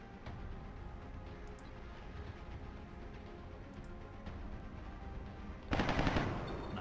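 Gunfire in XCOM: Enemy Within, a short burst of rifle shots breaking in near the end over a steady bed of game ambience and music.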